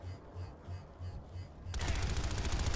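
Gunfire in the online shooter Planetside 2, first a faint rhythmic pulse of rounds, then a sudden loud burst of rapid automatic fire that keeps hammering close by to the end.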